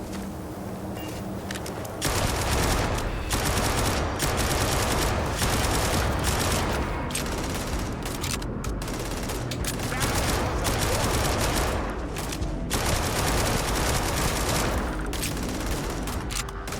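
Barret's gun firing in Starfield: sustained, dense automatic fire running almost continuously, loud and close, with brief gaps and a voice talking faintly underneath.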